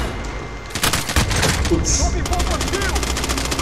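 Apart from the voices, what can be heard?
gunfire from a video game shooter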